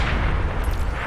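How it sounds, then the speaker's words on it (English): A grenade blast in the Batman Arkham Origins multiplayer mode sounds as a loud, steady, rumbling boom that fills the whole clip and never lets up. "Grenade!"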